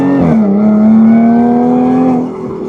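A 2013 Jaguar F-Type S engine revs hard, one sustained rising and holding engine note with a brief initial blip, loud and close, then easing off at the end, no talking.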